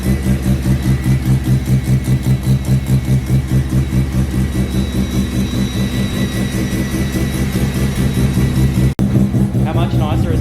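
A car with a 13B rotary engine idles loudly and close by. Its exhaust burbles in a fast, steady, uneven pulse that runs unbroken, with a brief cut near the end.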